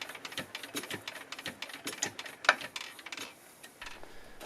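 An Enfield VS1 100 stationary diesel engine being hand-cranked slowly in snow with its start-stop cam closed, rhythmic mechanical clicks and knocks repeating at an even pace, close and fairly quiet, no firing.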